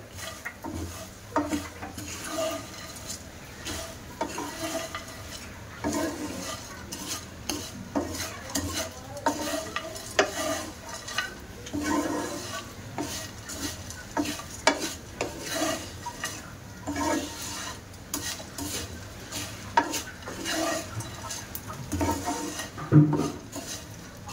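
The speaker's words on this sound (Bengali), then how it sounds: "এবার চিড়াটা ভালো করে মিশিয়ে নেব" Fried flattened rice being stirred with spices, peanuts and raisins in a pan, producing continuous dry scraping and rustling strokes of a spatula against metal, with a faint sizzle underneath and no talk.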